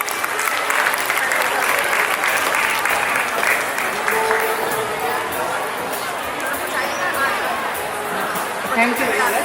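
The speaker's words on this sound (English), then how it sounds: "Please give ma'am a warm round of applause." An audience at a school gathering claps in a steady, dense round of applause to welcome a guest speaker, sustained throughout with a murmur of voices underneath.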